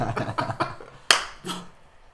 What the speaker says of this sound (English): Hold on, slow clap.